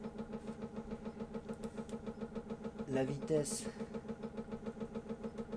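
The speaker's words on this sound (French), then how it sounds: "Donc déjà le moteur entraîne." Small electric motor spinning a threaded rod fitted with nuts, a steady mechanical whir with a fast regular pulsing throughout, under someone speaking briefly in French.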